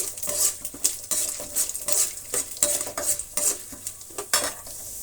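Chana dal and urad dal frying in a pan with a spoonful of oil, a steady sizzle broken by repeated scraping and clinking stirs of a metal spoon against the pan, close and moderately loud with no voices.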